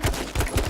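Gunfire in the H1Z1 video game comes as three rapid, loud shots in quick succession, close and punchy.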